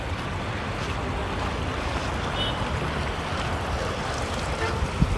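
Water gushes steadily and loudly through a drain pipe outlet near the Amaravati Iconic Towers, a continuous rushing roar with no pauses.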